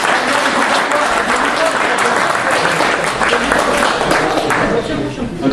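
Dense, loud applause from a crowd at a competition honouring its judges, steady throughout with scattered voices mixed in.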